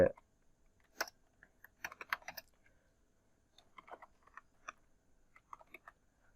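Someone types a text watermark in Microsoft Word on a computer keyboard: quiet, close key clicks in short irregular bursts with pauses between them.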